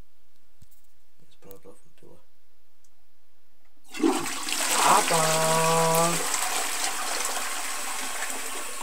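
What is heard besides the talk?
toilet flushing tea away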